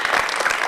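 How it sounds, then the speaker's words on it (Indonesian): Studio audience claps for the hosts of an Indonesian talk show, a short, loud burst of dense applause with no voices. "Kalau gitu tepuk tangan sekali lagi dong buat kita."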